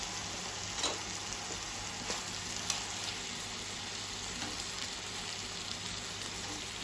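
A lamb marinade of chili, garlic, ginger and onions sizzles in a hot pan with a soft, steady frying hiss and a few faint stirring scrapes.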